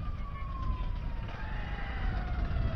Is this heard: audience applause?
no